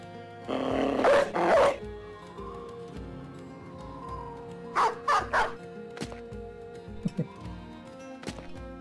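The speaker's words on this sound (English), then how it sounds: "We could send out the dog, I guess." A dog in the video game Battle Brothers barks in short bursts, a loud double bark early, then a cluster of barks midway and a few fainter sharp yips near the end.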